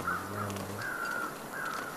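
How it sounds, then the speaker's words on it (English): In The Long Dark video game, crows give three harsh caws spaced out over a steady windy background hiss, fairly faint and distant, with a low hum fading early on. "Oh, the birds. They want me."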